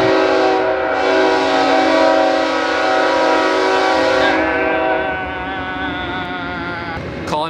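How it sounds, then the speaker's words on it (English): A train passes close by while its horn blares in long sustained blasts, loud and steady, then the horn's pitch drops and fades as the train moves on. "But halfway, uh-oh. The train is coming."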